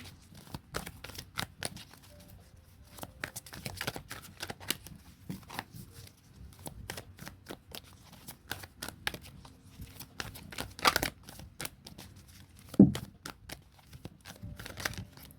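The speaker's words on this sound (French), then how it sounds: "j'ai un peu de mal à battre les cartes" Tarot cards being shuffled by hand, a soft papery riffling and flicking in irregular bursts, close and fairly quiet, with a sharper slap near the end.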